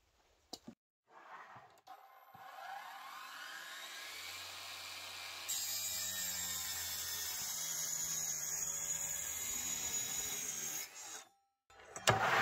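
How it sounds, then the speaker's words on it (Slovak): A Parkside Performance PPTSA 20-Li cordless plunge saw, run at speed setting 6, cuts steadily while pushed through the cut, giving a long, even whining grind that holds for several seconds and then stops abruptly. "Teraz na pílu vyskúšam v reze zatlačiť na 6."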